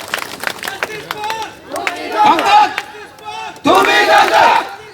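A large crowd at a rally erupts in loud cheering and shouting, with bursts of clapping; the roar swells twice, strongest toward the end.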